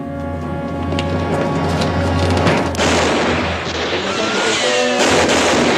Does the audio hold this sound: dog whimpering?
no